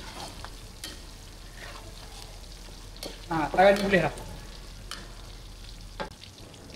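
Chopped bird's eye chilies and crisping garlic hit hot oil in a pan with a sudden burst of loud sizzling and crackle, settling back to a low background hiss while a person speaks briefly.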